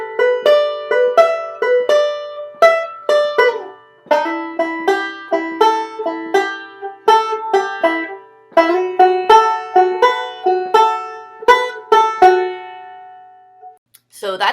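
Banjo phrase picked over each chord shape in 3/4 time, a run of bright plucked notes in a lilting triple rhythm, played solo and close with no talking.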